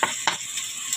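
Ginger hitting hot oil in a pan, with garlic and onion, gives a steady bright sizzle with two brief louder bursts of spattering as pieces are added or stirred, close and without talk.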